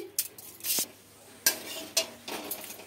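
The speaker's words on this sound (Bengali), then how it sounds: "আমার বড়ি ভেজে যে তেলটা রয়েছে এই তেলের মধ্যেই আমি এই শুকনো লঙ্কা দিয়ে দিচ্ছি।" Dried red chillies go into hot oil left from frying lentil dumplings, giving soft sizzling bursts mixed with a few sharp clinks and scrapes of a utensil against the pan, close and quiet.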